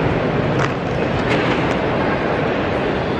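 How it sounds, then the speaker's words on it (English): A steady, broad rumble of train station noise in Paris with a few faint high squeals, continuous and fairly loud, with no voices. "I'm here at the train station"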